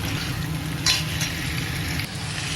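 Goat meat dropped onto spices already frying in a pan sizzles loudly and steadily at close range, with a brief clatter of stirring and no voices.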